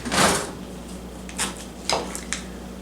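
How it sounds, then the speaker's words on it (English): A hot skillet of French onion chicken is set back on the stove with a loud metallic clunk at the start, followed by a few lighter clinks and knocks of metal and cookware, close by, no talking. "So I'm going to put that back on the stove."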